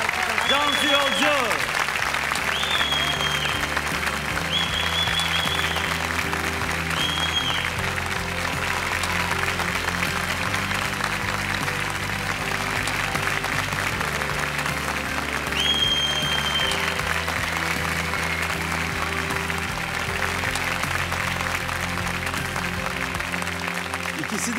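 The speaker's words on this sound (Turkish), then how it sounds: "Kocaman alkışlarla Cansu'yu uğurluyoruz" A studio audience at a televised folk song contest final applauds, loud and sustained, with steady clapping throughout and a voice talking over it and brief melodic tones above the clapping.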